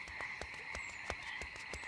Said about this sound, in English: do a croak